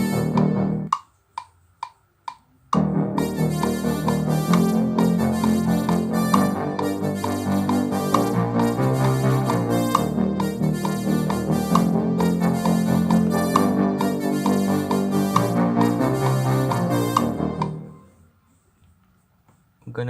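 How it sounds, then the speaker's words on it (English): Spectrum echo synth playing background melodies in GarageBand on an iPhone 5S, a retro 1980s synthwave line starting with a few short plucked notes, then a dense sustained echoing phrase that holds loud and fades out near the end. "now we're gonna use a spectrum echo for the background melodies"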